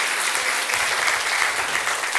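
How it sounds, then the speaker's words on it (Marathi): Church congregation claps together in thanks to God, a dense continuous burst of applause from many hands, fairly close and unbroken throughout. "टाळ्या वाजून देवाला धन्यवाद देऊया"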